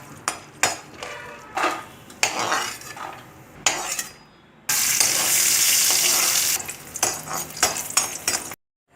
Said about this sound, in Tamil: நெய் விட்டுட்டு முந்திரி பருப்பு, திராட்சையை வறுத்து எடுத்துக்கோங்க